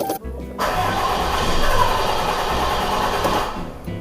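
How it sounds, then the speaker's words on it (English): A 6.7L Cummins diesel engine cranks on the starter in a steady, rapid, close chugging rhythm for about three seconds, then stops without catching. "Other times I've noticed it'll just crank and then I have to try it again."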